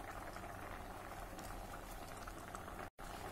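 Sama rice for a fasting-day vegetable pulav boils in water in a kadhai, making a quiet, steady bubbling simmer with a tiny dropout near the end.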